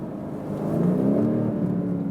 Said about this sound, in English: Now, you maybe heard the exhaust valve.